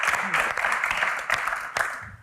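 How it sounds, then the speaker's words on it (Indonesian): An audience at a Q&A event gives a round of clapping, a continuous patter of hands with a few sharper peaks, fading slightly toward the end; faint voices sit underneath. "Tepuk tangan sekali lagi untuk Kak Mel dan Kak Tyson."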